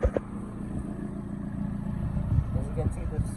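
Car engine running with a smashed exhaust pipe after an uphill drive onto sand, giving a low, rumbling drone with some rattly clatter, steady and fairly close, building slightly toward the end.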